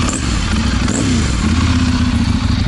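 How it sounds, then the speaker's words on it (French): A Ducati Monster 796 twin-cylinder motorcycle engine idles close by, loud and steady overall but with a lumpy, slightly irregular pulsing beat. "et là ça se cale sur le ralenti, qui est vraiment un ralenti un peu irrégulier"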